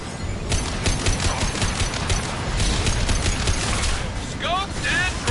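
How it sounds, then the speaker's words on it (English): Heavy weapon fire in Mass Effect Legendary Edition combat: a loud, dense, continuous barrage of rapid shots with crackling impacts throughout, and a few brief whooshing sweeps near the end. "Heavy weapon."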